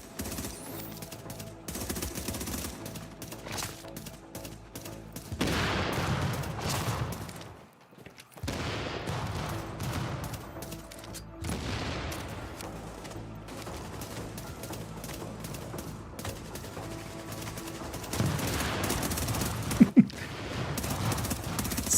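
Gunfire in The Division video game, with suppressed weapons firing in dense, overlapping bursts and volleys that run through the scene at moderate loudness, briefly dropping out once before resuming.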